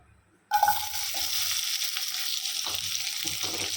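Silence breaks into a sudden loud sizzle as chopped onions hit hot oil, then steady frying continues with occasional stirring scrapes.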